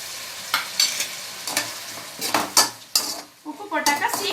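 Onions and tomatoes sautéed with salt in a pan for chicken kulambu: a metal spoon stirs and scrapes the pan in irregular bursts over a soft sizzle, close by with no talk.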